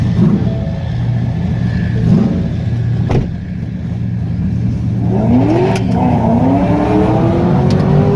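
Drag race cars at a dragway, including an SRT Hemi Durango 392, rumbling and revving steadily with rising engine tones near the end, loud and continuous with no talk.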